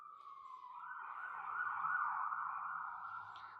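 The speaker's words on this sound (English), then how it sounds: "Think about what that siren means." An ambulance siren passes outside, a faint, distant wail that rises and swells in the middle, then slowly fades, with no talk over it.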